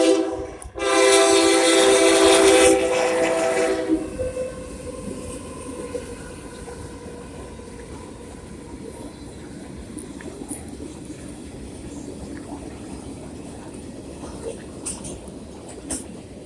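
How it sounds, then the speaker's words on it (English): A train passes with a loud horn blast lasting a few seconds, followed by a steady rumble of wagons rolling past that continues at moderate level, with faint wheel noise. "Train."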